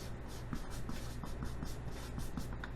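Pen or marker strokes scratch steadily across paper as notes are written out for a Korean history lesson, a close, rhythmic scratching of quick repeated strokes with no voices.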